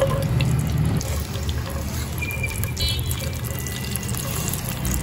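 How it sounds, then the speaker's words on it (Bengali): Cashews and bay leaves fry in hot ghee and oil, making a loud, close, continuous bubbling sizzle that stays even throughout, with no voices. "তেজপাতার সাথে কাজুগুলো দিয়ে দিলাম, এগুলো ভেজে নেব।"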